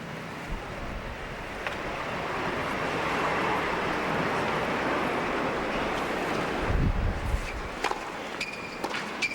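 Strong wind gusts across an outdoor tennis court during a US Open match, a steady broadband roar that swells slightly in the middle, with a few faint sharp knocks near the end.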